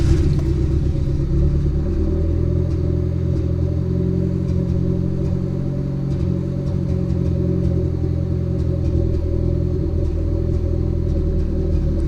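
A Honda car engine idles with a steady, loud low rumble close by, running evenly with no clear revving.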